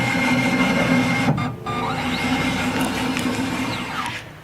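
An EC17/EC19 paper cutter running a proof cycle, a loud continuous mechanical whirring hum with a short dip partway and faint sliding sweeps, heard close and alone.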